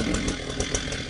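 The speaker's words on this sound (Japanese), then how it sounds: "チェーンソーだ。" Chainsaw running in the horror video game Into the Dead 2: a loud, continuous buzzing engine roar with slight pulsing throughout.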